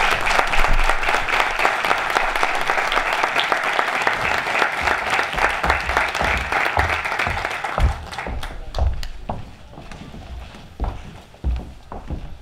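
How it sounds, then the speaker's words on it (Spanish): Audience in an assembly hall clapping for guests at a book presentation, loud dense applause that holds for several seconds, then thins into scattered individual claps and footsteps as it dies away. "Para ellos pido un fuerte aplauso"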